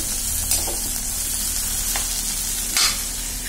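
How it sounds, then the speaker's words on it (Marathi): Cluster beans with turmeric sauté in a pan with onions, a close, steady sizzle broken by a few sharp stirring scrapes and clinks, with no voices. "हे चांगलं परतून घ्यायचं आपल्याला गवारीची भाजी वाफेवरची करायची"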